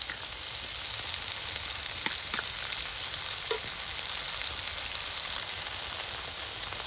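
Chopped tomato and ground spice paste fry in a pan for a freshly caught pond fish dish, making a constant dense sizzle with a few faint stirring clicks, close and steady throughout.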